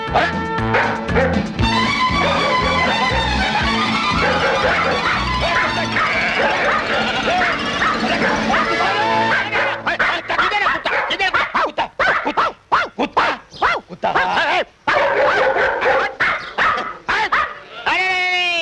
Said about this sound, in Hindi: काटना नहीं मोती, साले काय को मेरी इज्जत उतार रहा है?